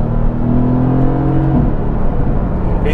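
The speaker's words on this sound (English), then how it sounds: "So we're in third gear now, let me change down to second." A Mercedes-AMG GT S 4.0 engine revs hard as it downshifts from third to second gear, its pitch climbing and dropping, loud and close with a steady rumble underneath.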